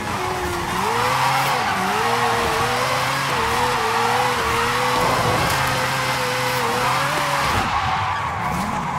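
A car doing a burnout in Forza Horizon 5, loud engine held at high revs under a continuous tire screech that wavers in pitch, cutting off sharply near the end.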